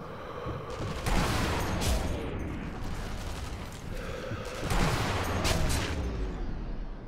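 Gunfire in the video game Sniper Elite V2, a rumbling clatter of shots and booms in two louder swells, fairly close, with little talk over it.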